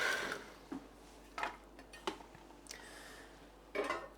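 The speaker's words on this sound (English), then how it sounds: "So that's one of the things I need some garlic for, which I'm chopping up now" Knife chopping garlic cloves on a board in a home kitchen during meal prep, heard as a few sparse, sharp taps spaced about a second apart, close but quiet.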